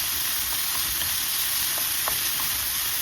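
Beef and ampalaya (bitter melon) stir-frying in a pan, with a steady close sizzle and hiss broken by a few faint scrapes of stirring, no voices.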